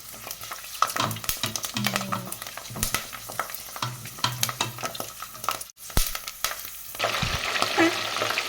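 Pork belly and sun-dried beef fry in oil with a steady, close crackling sizzle, broken by frequent scraping and stirring clatter, then a louder burst of hissing near the end.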